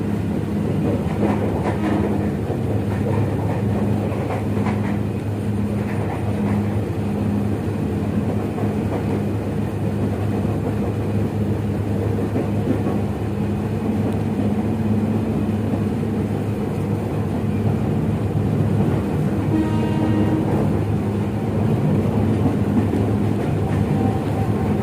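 A KRL commuter train stands at Citayam station with its doors open, giving a continuous loud low rumble and mechanical hum that holds steady throughout, with no talking.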